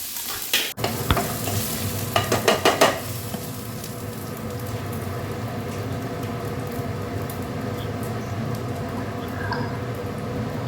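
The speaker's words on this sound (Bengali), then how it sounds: "আর একটুখানি ওই আদা বাটা দিয়ে সবজিগুলো নেড়ে চেড়ে আর এই খিচুড়ির মধ্যে দিয়ে দিলাম।" Vegetables such as long beans, green beans and potato are stirred with ginger paste into khichuri in a hot pot: a few close scraping stirs at the start, then a steady sizzling fry that continues throughout.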